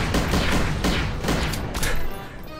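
Rapid, dense gunfire from the golden gun in the GoldenEye Source video game, a near-continuous barrage of loud overlapping shots and booms running through the whole stretch.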